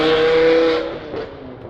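A loud car engine revs hard up close, a sustained roar that drops off after under a second into a lower, fading rumble.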